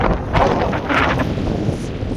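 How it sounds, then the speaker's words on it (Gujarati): Strong wind buffets a fishing boat at sea, a loud continuous roar and gusting rush against the microphone with faint rustle underneath, no voices. "ફૂલ પવન નીકળી આવ્યો છે."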